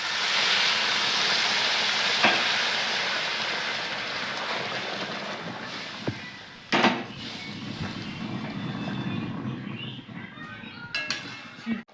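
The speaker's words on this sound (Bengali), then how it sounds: "গরম জলটা দিয়ে দিচ্ছি" Hot water poured into a pan of rajma, giving a steady hiss and rush of liquid over hot cooking, fairly loud and close, easing off into a few clinks of utensils and a faint voice.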